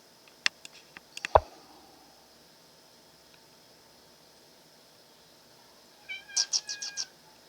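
A cat meows near the microphone in a quiet room. Sharp clicks and ticks come first, then a short run of four or five quick meows close together near the end.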